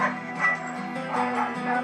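Yorkshire terrier barking in short yappy bursts mixed with whiny whimpers, close and fairly loud indoors.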